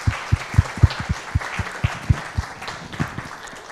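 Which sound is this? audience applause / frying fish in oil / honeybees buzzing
audience applause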